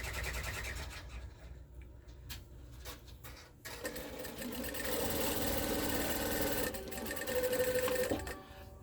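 A sewing machine chain-piecing quilt fabric for a Christmas trip-around-the-world quilt runs in steady, close mechanical bursts, whirring on and off with brief pauses between seams, with no talking.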